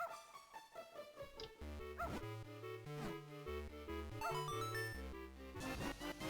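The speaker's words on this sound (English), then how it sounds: "As to that dog, I need to feed." A dog in Zelda: Minish Cap gives a few short yips and barks amid bright chiptune-style game music, the barks small and synthetic rather than loud.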